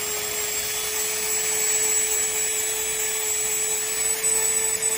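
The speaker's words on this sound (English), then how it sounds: "So the Dremel, I like to just kind of smooth these down" A Dremel rotary tool grinds down toenails, a steady close high-pitched whir with a constant tone held throughout, no talking over it.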